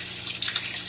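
Distilled water is poured into a vessel of crystals, making a brief, close, splashy trickle that grows slightly louder.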